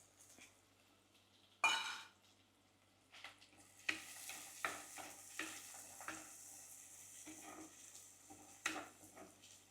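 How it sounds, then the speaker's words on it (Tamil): Small onions for a Batticaloa-style prawn curry are stirred in a pan, giving a faint sizzle with irregular scrapes and clinks of the utensil against the pan, one sharp knock early on. "இது கொஞ்சம் வெங்காயம் வதங்கும் வரைக்கும் இதை வதக்கணும்."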